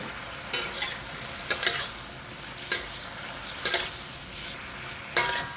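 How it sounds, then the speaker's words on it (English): Baby bok choy stir-fried in a wok, with a few loud bursts of tossing and scraping breaking through a constant close sizzle. "always stir fry because you want to make sure that all your bok choy is evenly cooked"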